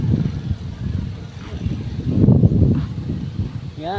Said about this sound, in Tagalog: Yan, ang lakas ng hangin o.